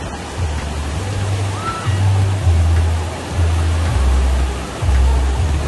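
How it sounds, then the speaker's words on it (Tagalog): The Boogie Bay wave pool at Aqua Planet water park churns with a loud, continuous rush of water, underlaid by a low pulsing hum that rises and falls in a steady cycle of about once per second and a half. "Ito naman yung Boogie Bay nila kung saan may wave talaga dito."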